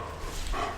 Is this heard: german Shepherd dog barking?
yes